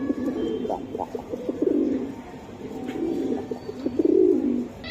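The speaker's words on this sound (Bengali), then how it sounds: "খুবই সুন্দর এক জোড়া কবুতর" A pair of breeding pigeons coo close by in repeated soft, throaty phrases, with short pauses between bursts and a faint voice in the background.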